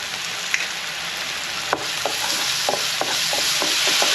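Ginger garlic paste sizzles and fries in a pan with onions while being stirred, a steady close hiss broken by scattered scraping clicks of the spoon against the pan.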